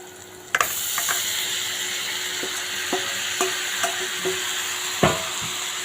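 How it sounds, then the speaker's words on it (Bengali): Beef tripe frying with cinnamon, cardamom, salt, turmeric and chili powder in a pan, a steady close sizzle punctuated by a series of sharp spoon knocks and stirring scrapes, no talk. "এবার একটু নেড়ে নিয়ে এর ভিতরে আমরা ভুঁড়িটাকে দিয়ে দিব।"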